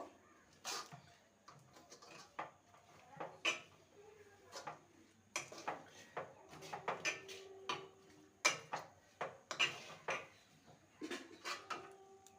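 A spatula scrapes and taps against a pan as a sesame sweet mixture is stirred over a low flame, irregular close clinks and knocks in a quiet kitchen.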